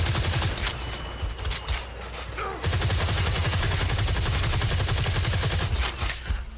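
Gunfire in the video game Firefall, with dense rapid bursts of loud shots pounding almost continuously and only a short lull midway.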